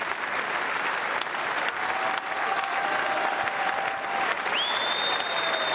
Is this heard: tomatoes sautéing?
no